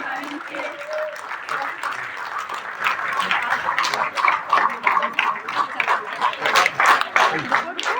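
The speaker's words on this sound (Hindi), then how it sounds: "आप सबकी ताली कंटिन्यू बजती रहनी चाहिए।" Audience at a lab technician day event at Ranchi Sadar Hospital applauds the health minister, clapping building from scattered to fuller and louder, mixed with crowd murmur.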